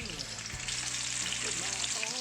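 Onions frying in hot oil in a kadai, giving a loud, steady, close sizzle that continues without pause throughout.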